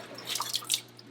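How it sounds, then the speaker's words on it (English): Water draining from an aquarium overflow drain hose as it is slowly pulled out, a short run of close, light drips and splashes with no talking. "You have to pull it out real slow because water is going to drain out of it."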